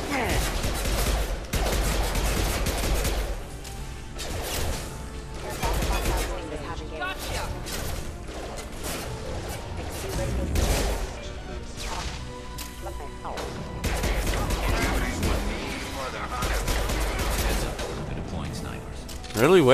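Loud, continuous gunfire and explosive impacts from the video game Mass Effect 2, dense bursts of shots and crashes over a rumbling low end, with voices occasionally heard through the combat.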